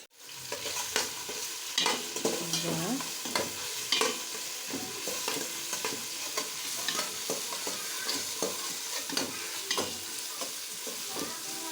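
Onions and green chillies frying in oil, a steady close sizzle with repeated spatula stirs and scrapes against the pan, no voices.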